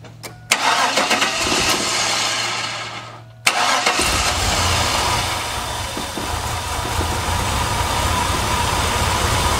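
A small engine fed from an external fuel tank and pump cranks for a few seconds with a steady whirring churn, briefly stops, then catches and settles into a loud, continuous idle close by.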